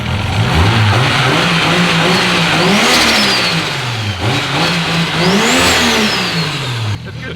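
A Nissan RB30 six-cylinder engine in an R34 Skyline revs up and down twice, rising and falling in pitch, loud and close with a rough, throaty exhaust note.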